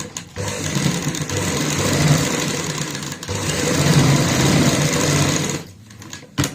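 An electric sewing machine runs close up, stitching a seam along a marked line in cloth, in a steady whirring rattle broken by three brief pauses as it stops and restarts.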